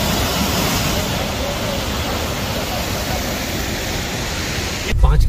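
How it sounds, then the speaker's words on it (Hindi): Water rushing steadily near a forest road, a loud, unbroken wash of noise close to the microphone, ending with a brief rumble of wind or handling. "इसकी साउंड सुनिए पानी की"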